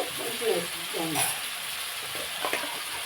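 Ginger garlic paste frying in hot oil, a steady bright sizzle with stirring scrapes throughout, and a voice speaking briefly over it at the start.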